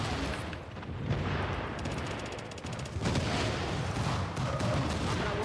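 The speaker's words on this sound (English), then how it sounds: "All the explosions." Dense, continuous gunfire and booming blasts in the video game The Division fill the whole stretch, rapid bursts layered over rumbling explosions at steady high intensity.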